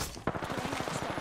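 Rapid automatic gunfire from Apex Legends, a steady run of close, evenly spaced shots that starts sharply and keeps hammering through a short burst.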